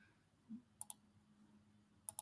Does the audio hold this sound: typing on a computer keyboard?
yes